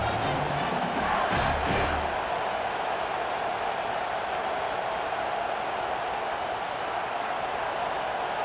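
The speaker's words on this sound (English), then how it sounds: "This crowd busting the decibel meter and trying to will a 4th down stop" A dense stadium crowd at a video game American football match roars steadily throughout a tense fourth-down play, loud and unbroken with no distinct voices on top.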